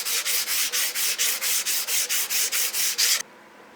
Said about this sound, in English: wet sanding with 400 grit and some WD-40